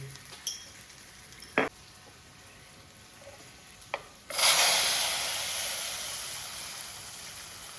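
Mustard seeds, dried chilli pieces and curry leaves hit hot oil as a tempering for raw mango curry, bursting into a loud, steady sizzle that slowly fades, after a few sharp kitchen clinks.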